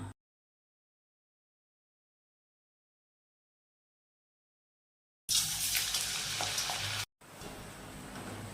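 Oil sizzles and crackles steadily as onion vadai fritters fry, after a long stretch of silence, with a brief break before the frying noise resumes.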